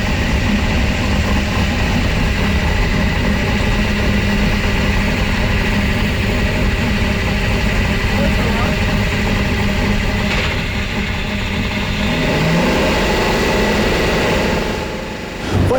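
A vintage race car engine at the Carrera Panamericana road race rumbles steadily and loudly up close, then shifts and rises in pitch toward the end, with no voices over it.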